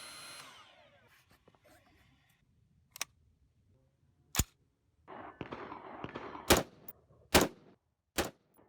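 About five sharp rifle reports from a Criterion 16-inch HBAR barrel firing groups of 77-grain, 73-grain ELD Match and 55-grain FMJ ammunition, spaced a second or so apart and heard at a distance after a soft rustling start.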